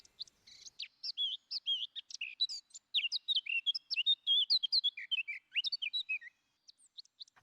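A warbler sings a continuous run of bright, quick chirps and short whistled phrases, close and clear, with no other sounds.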